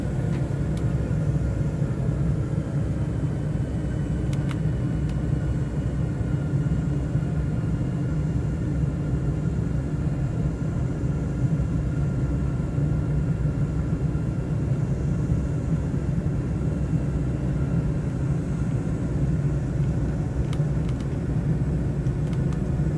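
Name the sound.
aircraft engines throttling up for takeoff in a flight simulator game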